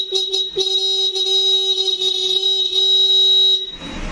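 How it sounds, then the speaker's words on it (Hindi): A scooter's electric horn, tested with the ignition on, blares in one steady, loud, continuous tone for about three and a half seconds after a brief initial toot, then cuts off. "देखेंगे हॉर्न बसता है नहीं बसता है।"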